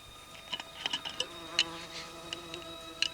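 An insect buzzes in short, close bursts and whines after a bee is let out of an opened jar, with quiet gaps between passes and no talking.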